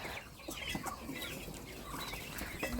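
A mother hen and her growing chicks cluck and cheep while being moved to a new spot, with scattered short calls heard faintly against background noise.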